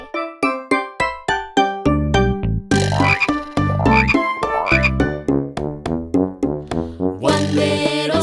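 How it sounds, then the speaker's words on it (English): Cartoon frog croaks in a children's animal song, a string of loud, rhythmic ribbits sitting among bouncy musical notes and jingles. "Now there is 1 green speckled frog."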